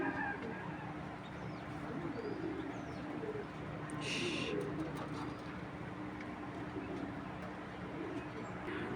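Old-breed pigeons cooing in a crowded loft, a steady, dense murmur of overlapping coos that runs the whole time over constant background noise.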